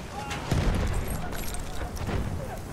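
Grenade blasts in the Battlefield 1 video game, a couple of deep booms amid dense battlefield gunfire and rumble, loud and close.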